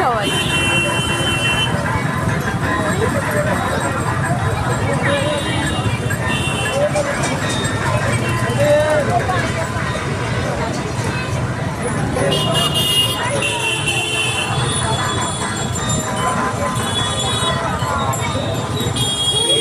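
A busy road in Jessore with cars, buses and bikes streaming past, a dense continuous roar of engines and tyres with horn toots and distant crowd babble, a voice talking over it.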